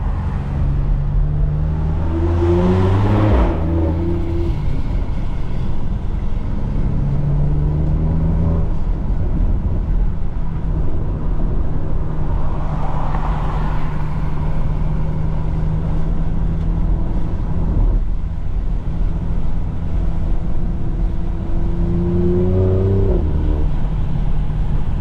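A BMW X3M fitted with a loud aftermarket exhaust rumbles through traffic from inside the cabin, a constant deep engine drone with a few rising bursts of acceleration across the stretch and no talking.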